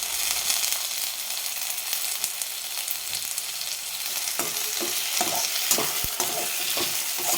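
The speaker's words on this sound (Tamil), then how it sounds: "இஞ்சி பூண்டு பேஸ்ட் சிம்மில் வச்சு நல்லா வதக்கிக்கலாம்" Ginger garlic paste, curry leaves and chopped tomatoes sautéing in a pan for a roadside-style veg salna, with a continuous close sizzle and spoon stirring scrapes in the second half.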